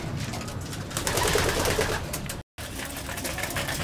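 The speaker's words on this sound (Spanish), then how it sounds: "Están las palomas ya comiendo." Pigeons coo softly while feeding outdoors, their low calls mixed into a busy background of shuffling and ambient noise that runs throughout, broken by a brief dropout partway through.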